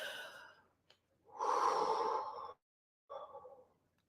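Slow breaths during a calm breathing exercise: a soft intake, then a long, airy exhale through the mouth, and a shorter breath after a pause, all close and quiet.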